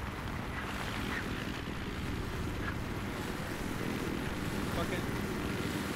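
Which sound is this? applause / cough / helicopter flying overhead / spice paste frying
helicopter flying overhead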